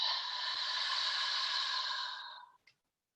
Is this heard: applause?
no